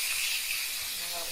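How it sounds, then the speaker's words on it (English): A pressure cooker vents steam through its turned release knob after cooking egg cups, a loud, continuous hiss that stays steady and close throughout, with no talking over it. "you gotta let all the pressure out. So I'm gonna turn the knob and turn it away from me."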